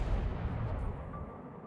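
Naval gunfire from an enemy cruiser in World of Warships, a deep rumbling boom that hits at the start and slowly fades into a low, decaying roll, heard without speech.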